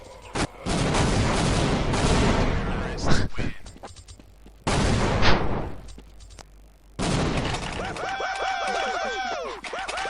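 Heavy, booming bomb blasts erupt in bursts with crackling debris in Counter-Strike 1.6, separated by brief pauses, followed by a voice talking over the noise.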